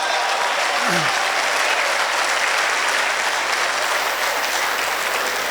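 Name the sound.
audience applause at a mushaira poetry event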